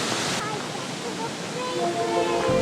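Steady, broadband rushing of a waterfall in New Plymouth, New Zealand, loud and continuous throughout, with no break in the roar.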